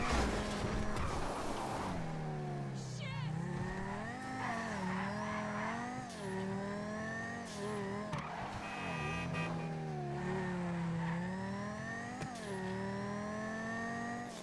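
A GTA 5 High Life Update car driven hard, its engine rising and falling through gear changes, with bursts of tire squeal and skidding through turns, loud and close throughout with no talk.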